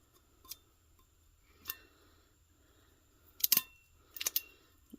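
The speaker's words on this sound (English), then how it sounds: "So we're going to get to peeling." Heat transfer tape is peeled off cooled tumblers after heat pressing, giving a few quiet, sharp crackling rips separated by pauses, with the last ones coming in quick bursts.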